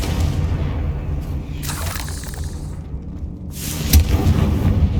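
Confringo blasting spell in Hogwarts Legacy, a loud burst with a crackling shatter and a rumbling boom, then a second sharp blast near the end, with low rumble running underneath.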